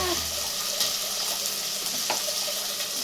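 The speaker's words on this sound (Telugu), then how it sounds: "అల్లం తెల్లగడ్డ పేస్ట్ వేయాలి కొంచెం వేగాక" Ginger garlic paste frying in a pan for a prawn and ridge gourd curry, a steady close hissing sizzle with faint crackles and a couple of brief stirring scrapes, no talking.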